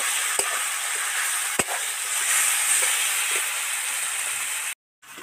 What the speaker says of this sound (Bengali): কড়াইতে তেল ছেড়ে গেছে, এবার এই ইঁচড় আর আলু ভাজাটা কড়াইতে উঠিয়ে দেবো।